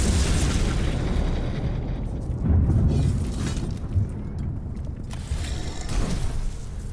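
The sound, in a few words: explosion in Warhammer 40k: Mechanicus 2 video game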